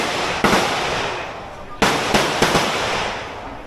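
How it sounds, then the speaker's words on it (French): Booming 155 mm artillery fires in a war zone in Vietnam, with three or four sharp, loud blasts that decay into a rumbling wash, while excited voices react nearby. "Ah, c'est fort. L'artillerie. 155 mm d'artillerie."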